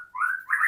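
White-rumped shama (murai batu) giving a short, clear whistled call of two rising notes, bright and close, with no other sound around it.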